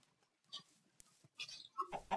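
A chicken in the video game Minecraft gives a few faint, short clucks in quick succession against a near-silent background.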